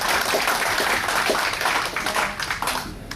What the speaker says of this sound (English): round of applause for any of the World War II vets that you may know also